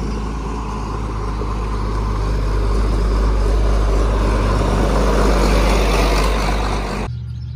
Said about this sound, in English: There comes my mower.